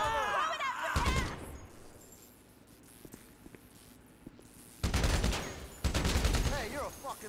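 Rapid bursts of gunfire in Grand Theft Auto V rattle out in two dense volleys, with quieter stray shots between them, while a character shouts over the action.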